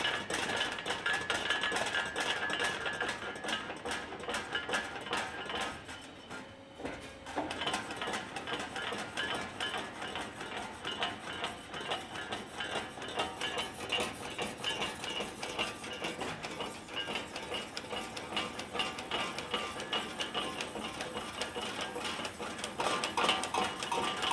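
A ChannelBender SXP channel letter bender notches relief notches into the arc portion of a .040 aluminum channel letter, giving a steady, dense mechanical clatter and whir that runs nearly continuously, with a brief dip partway through.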